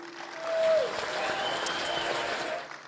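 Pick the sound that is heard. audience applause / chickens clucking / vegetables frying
audience applause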